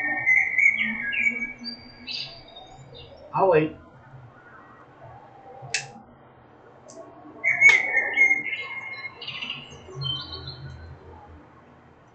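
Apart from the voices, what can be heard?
birds chirping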